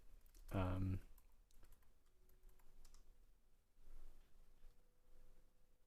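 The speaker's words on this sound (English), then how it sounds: "So we can use that text document to type into." Someone types into a text document on a computer keyboard running custom Nim firmware, producing soft, fairly faint key clicks in short bursts, with one louder thump near the start.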